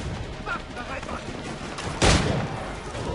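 A single loud gunshot from Assassin's Creed 3 cracks out near the end, preceded by a busy, muffled game background.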